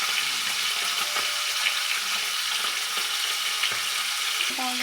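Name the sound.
pomfret fish frying in mustard oil in a wok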